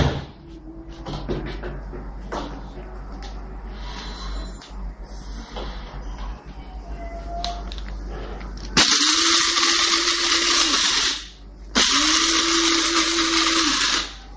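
Coffee beans for Ethiopian coffee are ground in an electric grinder, which whirs loudly in two bursts of a few seconds each after some quieter handling and clatter.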